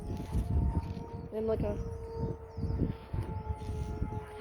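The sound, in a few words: tornado sirens in Jackson, Tennessee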